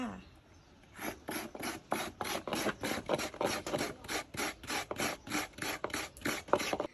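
Coconut meat being grated by hand to make coconut milk, heard as a steady series of about twenty rhythmic rasping scrapes, close and clear with no talking.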